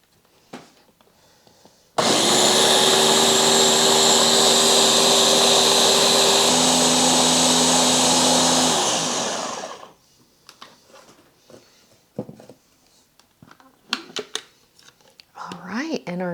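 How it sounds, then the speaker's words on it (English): A kitchen blender mixes homemade Caesar dressing, starting abruptly with a loud steady whir that holds for about eight seconds, drops slightly in pitch partway through, then winds down. Quiet clatter and a voice follow. "I'll give this maybe another 20-second mix. A nice long blend helps the"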